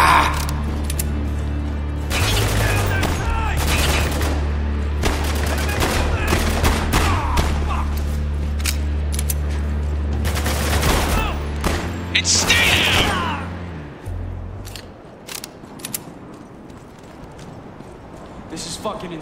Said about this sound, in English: Taking some heavy fire here!